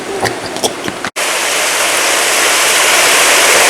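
After a few faint clicks and a sudden brief cutout, a waterfall with turtles in its water pours into a loud, steady, close rushing hiss that continues unbroken to the end.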